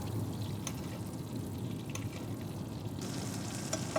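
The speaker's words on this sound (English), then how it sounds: "we're just gonna baste it right over the top" Steak sizzling in a pan while being basted with garlic butter and oil, a steady, close crackle and hiss with occasional sharper spits and splashes of liquid.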